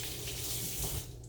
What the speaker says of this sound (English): I have to wash my hands first